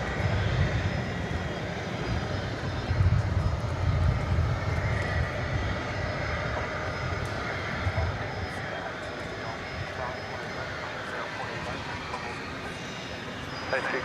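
A jet takes off at DFW Airport, a broad steady roar that holds for the whole stretch, with voices, likely radio traffic, running over it.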